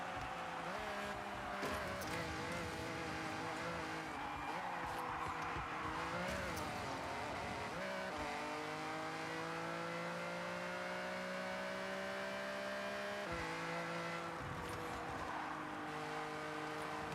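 Car engine in the Forza Horizon racing game, revving loudly and steadily with rising and falling gear pitches, tires squealing in places, and occasional faint speech over the top.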